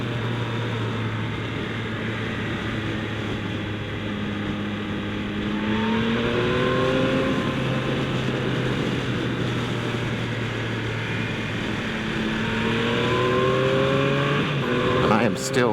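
A 2025 Yamaha MT-09 SP motorcycle ridden in sport mode, its engine droning steadily under loud wind rush, with the pitch climbing on rising revs partway through and again near the end.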